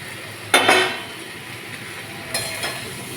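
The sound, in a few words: vegetable stems added to a cooking pan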